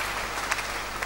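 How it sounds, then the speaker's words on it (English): Brief burst of applause from a church or Bible-study audience, a dense wash of clapping hands lasting about a second, steady and fairly loud with no voices on top. "Give me a round of applause for that."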